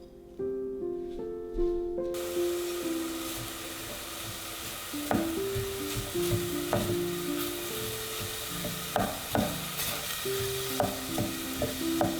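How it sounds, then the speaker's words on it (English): Chopped onion and garlic sauté over medium heat in a pan, giving a soft, steady sizzle with occasional stirring taps, heard beneath background music throughout. "Saute them over medium heat until translucent."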